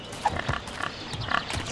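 Pigs grunt and oink in the Shire in the Lord of the Rings: The Fellowship of the Ring video game, several short, faint snorts scattered in a quiet scene.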